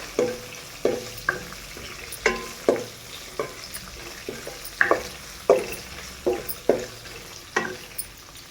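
Spices and small cashew pieces frying in a pan over low heat for tamarind pulihora, a soft continuous sizzle broken by regular close scrapes and taps of a spoon stirring, with no voices.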